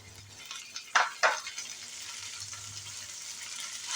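Fenugreek leaves frying in a pan on a gas stove, a soft continuous sizzle with two brief sharper crackles of stirring near the start, no talking.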